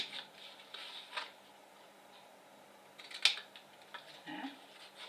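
Scissors snip card stock for an elegant gift box, a few quiet, close cuts with faint rustling and handling in a hushed room, including one sharper snip midway.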